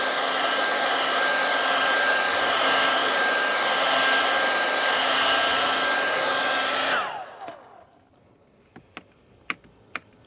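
A heat gun blows a loud, steady roar for about seven seconds while warming carbon trim inside a Tesla Model 3, then cuts off, leaving a few sharp clicks and small crackles in the quiet.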